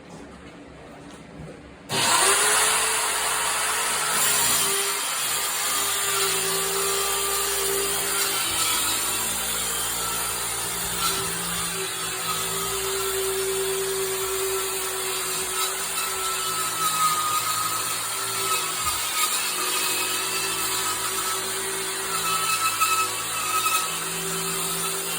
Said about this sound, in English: It's a little adjustable skill saw.